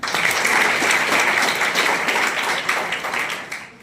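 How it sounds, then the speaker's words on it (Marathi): A college audience claps for a student named Vijay, a dense, steady burst of many hands that stays loud throughout and begins to thin out only at the very end. "विजयसाठी टाळ्या वाजवा यार"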